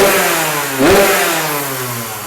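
A Kawasaki KX85 dirt bike's two-stroke engine runs loud and close, rising in one quick rev before settling back to a steady buzzing idle.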